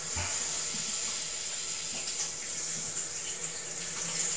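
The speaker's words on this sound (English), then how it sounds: "the tank should be filling" Water hisses steadily as a newly installed toilet's tank fills after the supply valve is opened, a constant close rushing fill with no talking.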